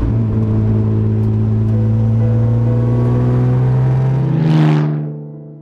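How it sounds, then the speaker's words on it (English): A 1953 Jaguar C-Type Le Mans Works Lightweight race car roars close by, its engine pitch climbing steadily. It then sweeps past and fades quickly away. "today I'm driving this 1953 Jaguar C-Type Le Mans Works Lightweight."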